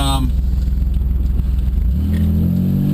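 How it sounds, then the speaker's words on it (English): A Dodge Stratus revs and rumbles through its exhaust, a loud throaty idle pulsing close by, then settling into a steadier drone. "I love that exhaust. It sounds so good."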